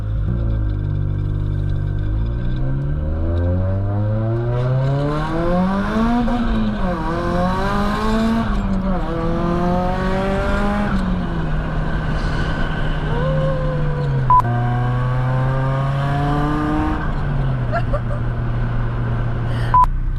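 A built 410 hp Nissan S15 Silvia Spec R engine revs repeatedly, its pitch climbing and dropping in long sweeps, loud and close, with gear-like rises throughout.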